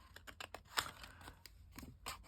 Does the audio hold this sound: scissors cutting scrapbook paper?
yes